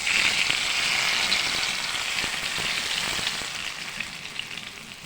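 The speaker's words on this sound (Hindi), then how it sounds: "अब इस टाइम पे मैं इसमें कड़ी पत्ता ऐड करके और डायरेक्ट देगची में भगार लगाती हूँ" Curry leaves crackle and sizzle in hot oil poured straight into a cooking pot of green chili chicken salan, a steady close hiss that stays loud throughout and eases slightly toward the end.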